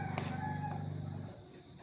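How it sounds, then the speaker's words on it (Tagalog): A rooster crows nearby in a drawn-out call, cut off after about a second, with a faint background hum. "Mayroong mga alagang manok si Papa doon sa payag."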